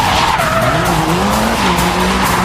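A Mitsubishi Lancer drifting in a street-racing scene, its tires skidding and squealing loudly and continuously, with wavering pitch over a steady engine roar and no speech.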